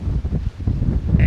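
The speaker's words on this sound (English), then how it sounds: "It kind of got a bit windy the last hour or so of play." Strong wind buffeting a microphone on an open golf course, a loud, gusty low rumble that swells and dips over a second or so with no other clear sounds.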